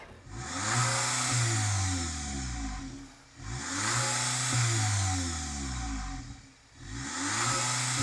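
Volkswagen Polo GTI 2-litre turbo four-cylinder engine revved while parked, three loud rising-and-falling bursts, each dipping briefly before the next.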